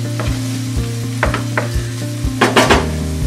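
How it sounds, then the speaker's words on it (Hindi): Tomatoes with salt frying in a pan as a utensil stirs them, producing loud close sizzling under repeated scraping strokes and a few sharper clinks, with no voices. "अच्छे से मिक्स कर लेते हैं"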